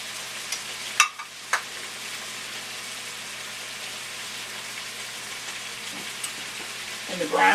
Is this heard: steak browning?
yes